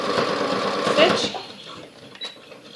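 A sewing machine runs briefly, stitching fabric for newborn pants, a close whirring burst that stops after about a second and a half, followed by quieter handling sounds and a voice.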